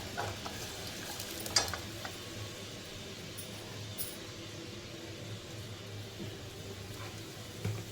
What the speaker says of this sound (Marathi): आपल्याला मसाल्याला व्यवस्थित शिजून द्यायचं आपल्याला